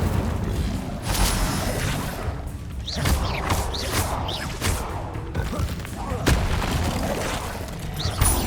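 Incendio fire spell cast repeatedly in Hogwarts Legacy, a series of booming thuds and crackling bursts arriving every second or so amid busy game noise, with a voice speaking over the action.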